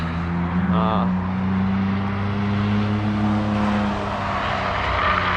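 A Corvette runs laps at Gingerman Raceway, its engine a steady loud drone that holds throughout, with a brief tonal chirp early on and continuous wind and track noise.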